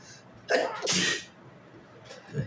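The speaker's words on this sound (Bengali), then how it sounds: "এত কাশি কেন?" Two or three sharp, explosive coughs burst out close by in quick succession during a maths lecture, separated by brief quiet.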